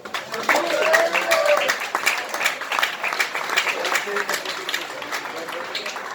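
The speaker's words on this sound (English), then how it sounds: "Big round of applause." A crowd at a cricket club farewell applauds the winning Chile team with steady, dense clapping that stays loud throughout, and voices and cheers mix in underneath.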